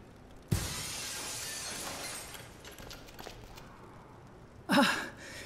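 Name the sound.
breaking glass in Dead Synchronicity video game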